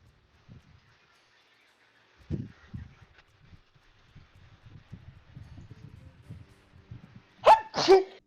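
A single sharp sneeze bursts out near the end, loud and close, after quiet murmuring and faint shuffling during a tabletop role-playing game session.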